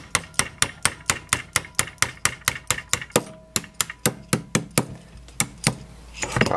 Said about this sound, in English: You just need a punch and a hammer to knock this roll pin out.